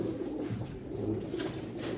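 Pigeons coo at a pigeon auction in Çorum, soft repeated low burbling calls from birds close by, continuous over two seconds with no voices.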